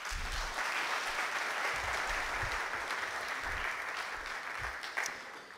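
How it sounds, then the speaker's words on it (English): An audience at a live-streamed renewable energy business forum claps for a speaker, a sustained, dense round of applause from a sizeable crowd, steady throughout with no talking over it. "Another round of applause for her."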